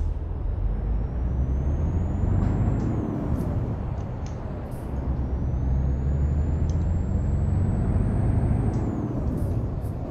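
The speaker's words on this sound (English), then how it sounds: "Those air brake sounds are ridiculous." Truck air brakes in Euro Truck Simulator 2 with pro mods hiss twice in long sweeping releases over a continuous low rumbling diesel engine, with faint clicks scattered through the drive.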